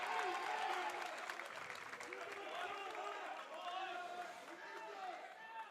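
Basketball crowd at a men's college game between Brevard and LaGrange cheering after a defensive play, a sustained distant roar under a commentator's voice.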